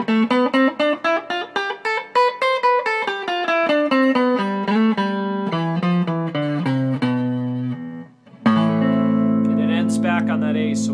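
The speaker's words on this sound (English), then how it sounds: "So if we play A Aeolian starting off in the A," An A Aeolian scale played note by note on an instrument, a run of distinct tones stepping through the minor mode, close and clear with no talk, ending on a sustained chord.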